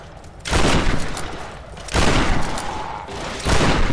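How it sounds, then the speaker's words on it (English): Three loud, close shotgun blasts fired at oncoming enemies in Tomb Raider, each a heavy boom with a short, rumbling decay, spaced about one and a half seconds apart. "hit them all with a shotgun as they come towards me"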